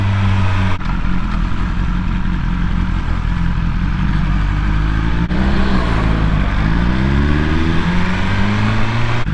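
Steady road traffic with cars and motorcycles. Engines idle and rev nearby, one rising in pitch as it pulls away, over a constant loud rumble with no talking.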